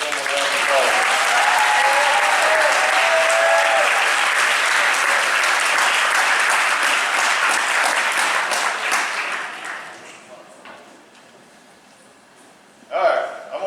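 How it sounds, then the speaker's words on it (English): Loud, dense applause from an audience at a high school athletic awards night honoring two Ludwig Award winners, sustained for about nine seconds before fading out, followed by a brief burst of clapping near the end. "let's give our two Ludwig Award winners one more round of applause"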